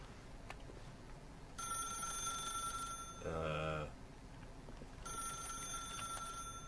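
A telephone rings in a video game's ominous room, two long bursts of insistent electronic bell ringing separated by a short gap, over a steady background drone with a brief tonal sound between rings.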